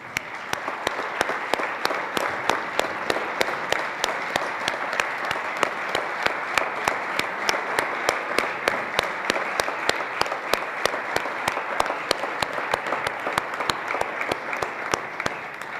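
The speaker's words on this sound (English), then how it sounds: "Members, let's give them all a hearty round of applause." State Assembly members applaud Latino Spirit Award nominees in the chamber, sustained dense clapping with crisp individual claps standing out, loud and steady throughout without speech.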